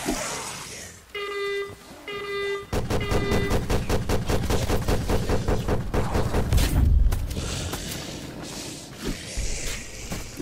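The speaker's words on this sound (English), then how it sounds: "The auto turret will target you almost immediately." Auto turret in Call of Duty Zombies on the Mauer der Toten map firing a long, rapid burst of loud, close gunfire, preceded by short electronic horn-like tones and ending in a heavy impact.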